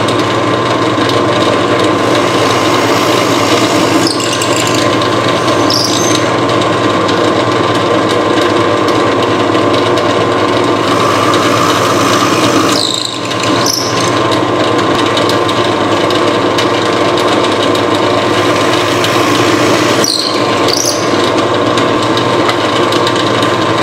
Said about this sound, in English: So to do that, I'm going to use my drill press.